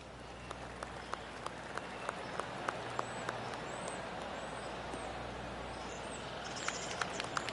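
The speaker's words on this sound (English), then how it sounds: "I can hear the golf claps around the course" Scattered light golf clapping from a crowd in a golf video game, sparse and distant, over a steady outdoor background hum with faint bird calls.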